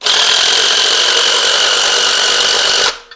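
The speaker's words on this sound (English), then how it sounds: "we got our spring tool tightened to the head, and let's just compress" Valve spring compressor tightened to an LT4 cylinder head compressing a valve spring, a steady loud grinding whir for about three seconds that cuts off abruptly, followed by a faint click.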